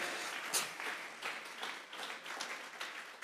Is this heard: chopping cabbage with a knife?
no